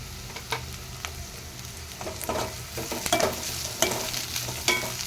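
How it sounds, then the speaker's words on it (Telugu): Green chillies and curry leaves fry and sizzle in a pan with onions, a steady crackling hiss broken by a few louder pops and the scrape of a stirring spoon, close and without any talk. "ఇది కాస్త ఫ్రై అవనిద్దాము."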